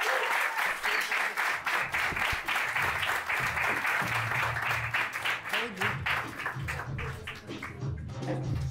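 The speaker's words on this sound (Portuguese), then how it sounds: "Júlio Alves, uma salva de palmas!" Comedy club audience applauding as a comic takes the stage at Ferro Comedy Club, a sustained burst of many hands clapping that stays loud and then slowly tapers, with a voice speaking beneath it later on.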